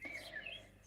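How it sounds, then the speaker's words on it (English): A brief, faint bird chirp with thin high tweeting notes, heard at a distance. "And Peter, nice to hear the bird singing"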